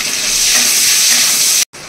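White cumin seeds fry in hot oil in a pan, giving a bright continuous sizzle and hiss at close range that cuts off abruptly near the end, with no voices.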